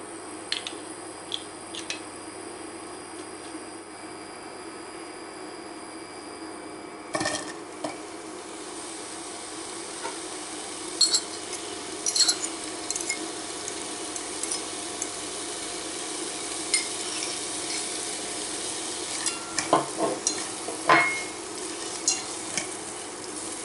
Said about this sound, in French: on va faire chauffer nos oignons. Donc on met un filet d'huile d'olive.